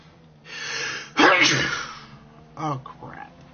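A person sneezes loudly and close, with a sharp intake of breath before it and a second smaller burst and breathy vocal sounds after, indoors during a racing game session.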